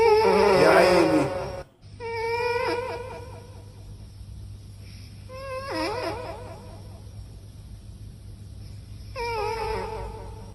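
A cat meows in several drawn-out, whining cries spaced a few seconds apart, loud and close, over a faint steady hum.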